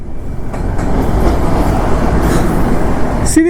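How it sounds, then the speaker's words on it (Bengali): The Kamakhya–Puri Express rumbles past at close range in loud, continuous rolling noise, with faint rhythmic wheel clatter throughout and a brief high squeal at the end. "এই দেখো এবার কিন্তু এক্সপ্রেস টেনেছে কামাখ্যা পুরী।"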